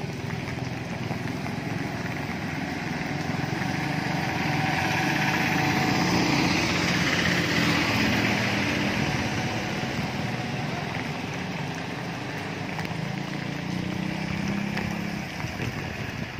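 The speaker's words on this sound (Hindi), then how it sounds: "देखो ये ट्रॉली की स्पीड, इसमें वाइब्रेशन नहीं आता।" A motorbike towing a bike trailer runs steadily at speed, its engine a continuous droning hum with road and wind noise throughout, close and fairly loud without pause.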